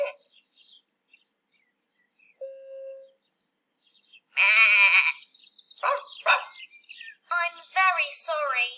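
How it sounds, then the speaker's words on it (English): Goats bleating close by in short, wavering calls, spaced out with quiet gaps between them, along with a few thin chirp-like cries. "Is he playing with the goats?"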